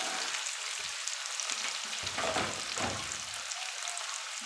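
Onion, potato, capsicum and carrot sauté in a pan, giving a steady hiss and sizzle, with a brief burst of stirring and scraping midway.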